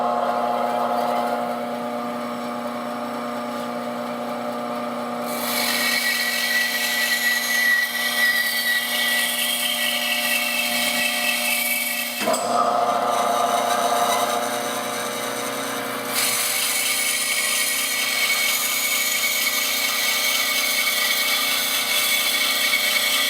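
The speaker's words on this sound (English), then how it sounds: "I'm going to turn the machine on," A bandsaw running and cutting a wood block, giving a loud, continuous mechanical whine and hum with shifts in pitch and intensity as the blade works through the wood, close and steady throughout.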